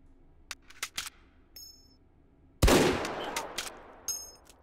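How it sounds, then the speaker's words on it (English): Inside the VR shooter Hot Dogs, Horseshoes & Hand Grenades, light clicks and handling knocks lead to one sudden, very loud close gunshot whose blast rings out and decays, followed by a few sharper reports and mechanical clacks. "I keep forgetting how loud this gun is"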